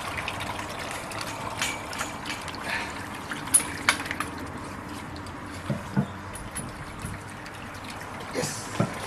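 Water poured outdoors, a steady low gush of liquid under a noisy outdoor background, with a few sharper splashes and knocks along the way.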